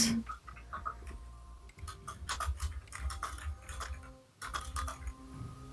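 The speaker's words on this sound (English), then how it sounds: "I hear typing" Keys clatter on a computer keyboard in quick, irregular bursts of close clicks and taps with a short pause near the end, over a faint low background hum.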